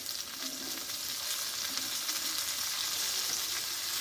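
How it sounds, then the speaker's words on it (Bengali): Chopped spring onion stalks fry in hot oil with half-fried onion, producing a dense, loud, continuous sizzle and crackle that holds steady without pauses. "এবার কেটে ধুয়ে রাখা পেঁয়াজ কুলিগুলো ঢেলে দেবো আমি"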